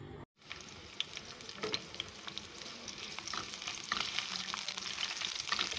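Green chillies sizzle and crackle steadily as they fry in oil close by, the sputtering growing slightly louder, with occasional stirring clicks and no talk.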